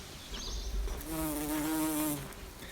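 Bumblebees buzz close by on a patch of dogbane flowers in a bog, a steady droning hum that swells and holds with its pitch sliding slightly as a bee hovers near.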